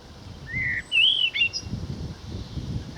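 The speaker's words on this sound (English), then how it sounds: "Hence the blackbird being in close proximity probably." Blackbird singing close by beside a path near allotments on a countryside walk, a few bright fluting, rising phrases standing out over a low rustling background.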